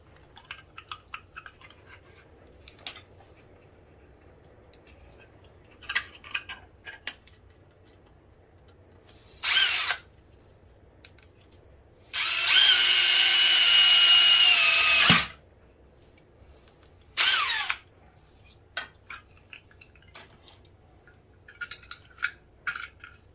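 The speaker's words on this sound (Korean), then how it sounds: "얘도 타공을 밑에서 해서 올리겠습니다" A 12V power drill bores holes from underneath in a few short bursts and one longer whine of about three seconds, loud and close. Light handling clicks and taps fill the quiet gaps between the runs.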